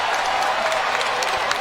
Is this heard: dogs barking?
no